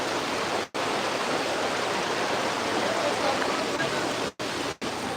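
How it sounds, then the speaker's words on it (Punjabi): Floodwater near Ajnala in Amritsar, Punjab, flows strongly in a steady, loud, hissing rush, broken by three very brief dropouts. "ਜੋ ਤੁਸੀਂ ਪਾਣੀ ਦੇਖੋ ਉੱਥੇ ਫਲੋ ਕਿੰਨਾ ਆ"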